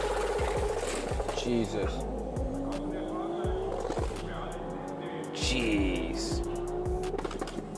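A Mercedes CLK tuned to around 1200 horsepower revs hard and accelerates, with repeated rising engine pulls, gear shifts and some tyre squeal, loud and close, while a person briefly exclaims over it.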